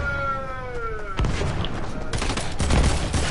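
Fortnite weapon fire: rapid bursts of gunshots over a busy game soundscape, with a fading tonal sweep at the start and denser volleys toward the end, loud and close.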